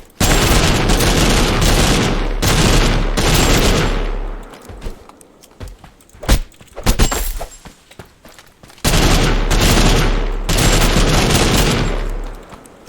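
Assault rifle in the TABG video game firing long full-auto bursts, loud and close, with two sustained volleys separated by a short gap of scattered single shots and echoing booms.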